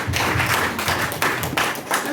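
Brief bursts of audience applause, a few quick rounds of clapping close by in a product training session, sharp broadband slaps in short uneven clusters.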